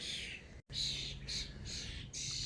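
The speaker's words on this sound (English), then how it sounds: "do you remember what I said about birds not being scared of you?" Birds call in a garden during a tidy-up, repeated squawking bursts in short clusters against a constant outdoor hiss, with no talking.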